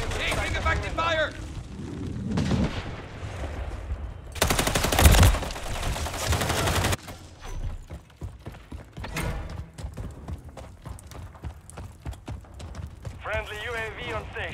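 Gunfire in Call of Duty Modern Warfare III Hardpoint on Satan's Quarry, loud bursts of automatic fire with a heavy blast in the middle, mixed with game voice callouts.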